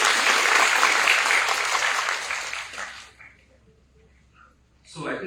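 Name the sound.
round of applause for the welcome speaker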